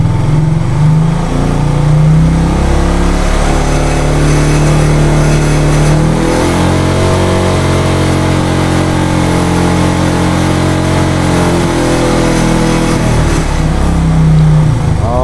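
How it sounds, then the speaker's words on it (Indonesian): A motorcycle engine fitted with a Fukuyama full-wave rectifier-regulator idles and then picks up briefly as a little throttle is given, a steady close mechanical hum that rises and falls again with no talk. "Dan saat kita berikan sedikit gas, berapa?"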